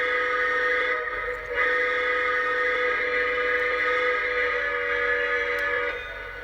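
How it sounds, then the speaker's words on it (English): A Lionel Dreyfuss Hudson 1938 20th Century Limited model train sounds its stock factory whistle, a sustained multi-tone electronic whistle held steadily for several seconds, close and fairly loud with no talk. "this is the original whistle that comes default from the factory"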